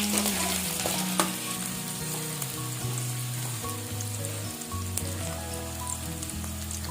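Onions and green chillies frying in hot oil in a kadai for a cucumber and dried prawn curry, a steady close sizzle with scattered crackles and pops, no voices.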